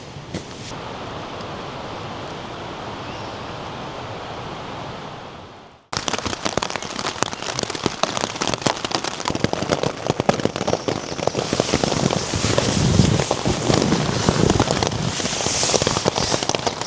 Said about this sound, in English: It started raining. That weather came in. Yeah, it rained for most of the night.